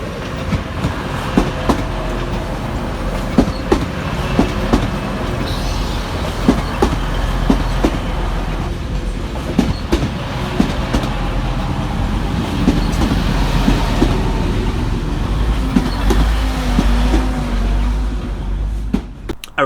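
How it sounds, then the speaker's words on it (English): Class 185 TransPennine Express units 185134 and 185116 pull into Manchester Piccadilly at rush hour, a loud steady rumble of wheels with rhythmic clickety-clack over rail joints and brief squeals, running unbroken throughout. "Next arriving into the station is 185134 and 185116 with the 1707 Transpennine Express service from Cleethorpes"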